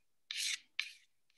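A Dremel sands a Mora 164 knife being reshaped, giving two short, close, raspy scrubbing strokes and then a fainter third, with quiet gaps between them.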